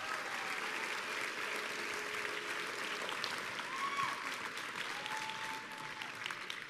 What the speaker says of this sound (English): worth another round of applause